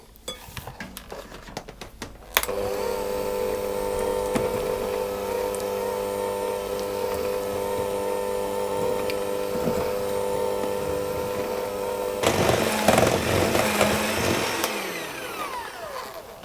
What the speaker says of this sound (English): I will whisk on a low speed until the icing sugar is incorporated into the butter